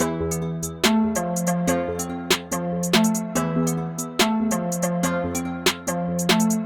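A dark UK drill beat with a deep sliding bass and sustained tonal chords, topped by fast ticking hi-hats with rolls and sharp snare hits.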